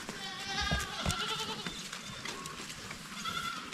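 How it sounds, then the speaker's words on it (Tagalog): Several goats, recovering from orf, bleat repeatedly as they are let out of their pen, with overlapping wavering calls close by against steady farmyard background noise. "Palabasin natin ating mga kambing."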